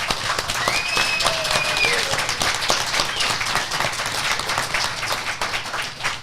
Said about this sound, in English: Big round of applause for Rose